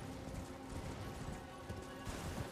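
Horse hooves clip-clop in Elden Ring, a quiet run of soft, uneven hoofbeats over low background game ambience.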